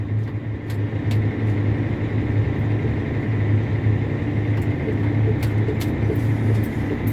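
A tractor-type vehicle on auto steer rumbles with a steady low engine hum as it drives off after the clutch engages, constant and fairly close, with no speech.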